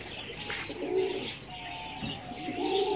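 Fantail pigeons coo softly in low, throaty, rolling calls that repeat and overlap, fairly close, with faint outdoor background noise.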